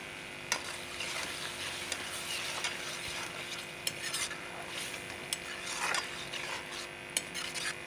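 Onion and green chili paste sizzling in a pan for bhindi keema, a steady close frying hiss with occasional stirring scrapes and light clicks of a utensil against the pan.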